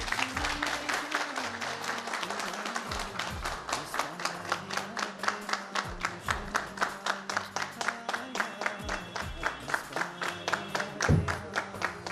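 An audience applauds the lyricist Shakeel Akhtar Sameen as he is called forward at a live event, a steady wash of clapping hands that runs throughout with rhythmic individual claps standing out, and a voice talking faintly beneath.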